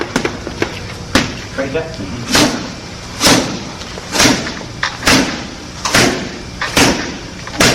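Strikes land on a training pad in a steady series of about eight sharp, loud thuds spaced under a second apart, with a brief spoken word early on.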